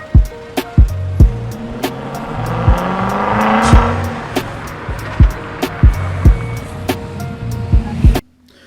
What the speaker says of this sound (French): je pense que le bruit de la voiture, je vais le mettre pendant